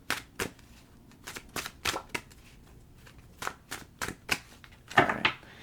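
Tarot cards being shuffled by hand in a quiet room, a run of crisp riffling bursts and soft taps at an uneven rhythm, close and fairly faint, with no talking.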